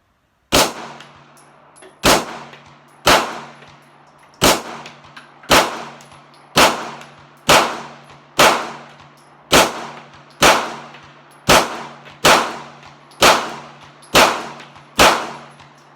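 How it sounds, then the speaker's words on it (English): A Beretta 92FS pistol fires ten rounds from a cheap military M9 magazine, sharp loud reports spaced about a second apart, each ringing briefly with a metallic tail, alone with no talk. "10 rounds flawlessly shot out of a cheap military magazine"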